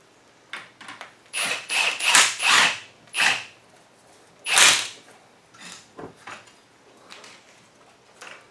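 A ratchet tightens a 19 mm strut bolt during a strut and spring swap on a 1999 Toyota Camry demolition derby car, with a close, irregular run of sharp scraping strokes and pauses.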